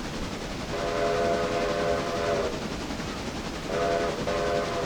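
A steam locomotive whistle in the Railroader game blows twice, a long harmonic blast followed later by a shorter one, over a constant rumbling background of freight rail noise.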